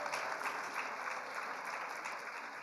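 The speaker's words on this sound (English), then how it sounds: "Please give him a round of applause." Audience applause at a GTAC PEC 2026 prize event, dense continuous clapping from a large crowd filling the room at steady loudness for the whole stretch.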